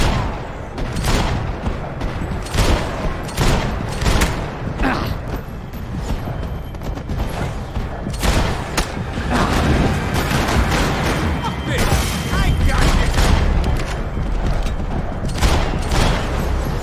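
Gunfire in Max Payne 3, set in Hoboken: a long firefight of loud, close shots in irregular bursts, with voices mixed in.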